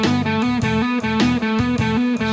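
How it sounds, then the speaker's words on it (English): A guitar played with picked notes followed by hammer-ons, with clear, repeated note attacks in a steady triplet-like rhythm; close and moderately loud, with no talking. "Now we'll try picking and then hammering,"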